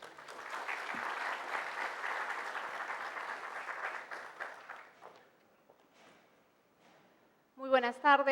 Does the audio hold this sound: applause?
yes